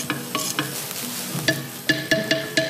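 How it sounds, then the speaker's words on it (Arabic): Oil heating in a pan before onions go in for a Tunisian couscous, giving a steady faint sizzle broken by several sharp clinks and scrapes of a utensil against the pan, with no talking. "صبينا الزيت خليه يسخن شويه"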